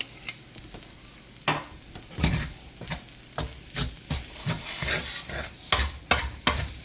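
Beef fried rice with sesame oil and oyster sauce being stirred in a sizzling pan, a steady fry hiss broken by repeated scraping strokes of the spatula, close and fairly quiet, with no talking.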